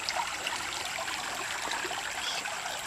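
Creek water trickling into a water bottle while filtering with a Sawyer Mini on a Sheltowee Trace hike, a continuous moderate gurgling stream, close and unbroken, with no talking.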